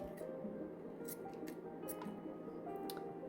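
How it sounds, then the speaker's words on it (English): Scissors snipping paper while making a tag, several quiet separate close snips over a low steady background hum. "I'm gonna cut this off."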